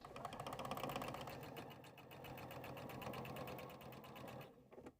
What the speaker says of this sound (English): we're going to go ahead and sew up one side, across the triangle point, and back down the other